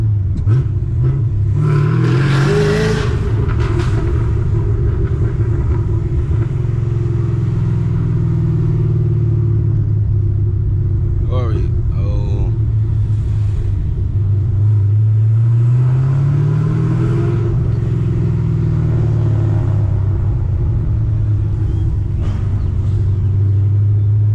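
A 900hp manual Chevrolet Camaro ZL1 rumbles loudly through downtown streets, its low engine drone rising and falling as it accelerates and eases off, heard from inside the car without talk.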